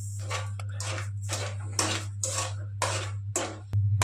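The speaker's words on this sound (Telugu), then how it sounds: "తీసుకొని రవ్వలో మిక్స్ చేసుకుంటున్నాం" Sugar being stirred into cooked semolina in a pan for rava kesari, a run of repeated scraping and clinking strokes of a spoon against the pan, fairly close, over a steady low hum.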